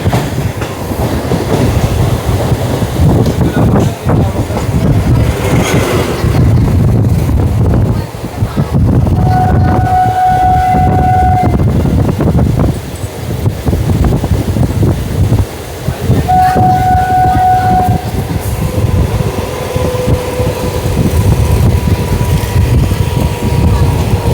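Sealdah to Amghata local train in motion, a loud continuous rumble and rattle of carriages on the rails with wind noise, and two long horn blasts sounding partway through.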